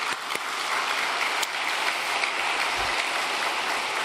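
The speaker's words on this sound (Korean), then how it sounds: "박수 좀 치세요." Audience applause at a religious gathering, a dense and sustained roar of many hands clapping, loud and even from start to finish, with no voices over it.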